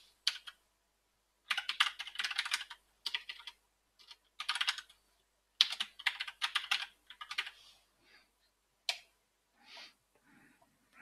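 Bursts of typing on a computer keyboard while entering a password, crisp clustered keystrokes coming in several short runs separated by pauses, close and fairly quiet.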